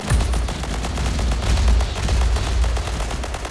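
Game gunfire from Roblox Harbor Havoc rattles almost continuously in rapid, machine-gun-like bursts with heavy booming low end, loud and close, with no talking over it.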